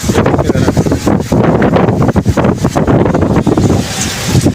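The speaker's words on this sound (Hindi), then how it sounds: "हवाएं चल रही हैं हर तरफ" Strong gusting wind blows across the microphone ahead of a storm in Multan, a loud buffeting roar that surges and dips throughout, no talking.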